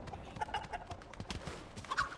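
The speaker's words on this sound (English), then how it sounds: "Come here, chicken." A chicken in a video game clucks and squawks in short, choppy bursts over steady game background noise, moderately loud with no talking.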